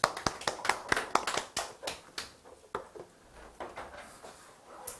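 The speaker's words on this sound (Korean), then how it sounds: "박수 치면서 마무리하겠습니다" A small class audience claps at the end of a lesson, a short burst of sharp, close handclaps that thins out into scattered, fainter claps.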